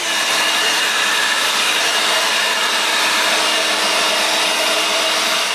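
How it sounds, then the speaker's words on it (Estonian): A loud, steady mechanical drone of a leaf blower, constant and close, with a high whine and airy roar that never lets up. "Lisaks tolmu üleskeeramisele tekitab lehepuhur ka palju müra ja seda sageli varahommikul."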